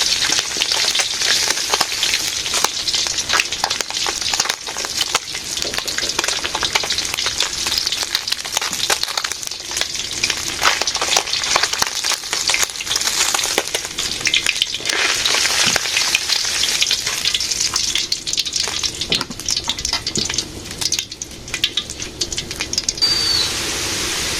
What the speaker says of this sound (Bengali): আলু একটু ভেজে নিলাম